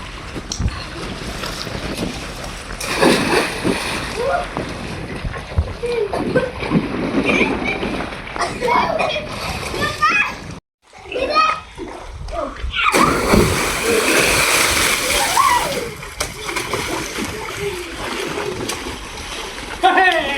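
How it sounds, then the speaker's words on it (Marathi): Someone jumps into water for a swim in hot weather, loud sustained splashing and sloshing with wind noise, a brief drop-out midway, then heavier churning splashes. "आता टाकतो उडी पाण्यात."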